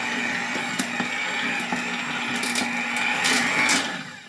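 A stand mixer kneads pizza dough at a faster speed, giving a steady mechanical whir with a low hum and occasional clicks and knocks, holding even and close for the whole stretch.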